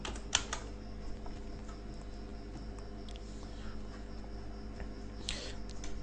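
Fingers type a website address on a computer keyboard in a quiet room, producing a fast run of light, close key clicks with a couple of sharper taps and no voices.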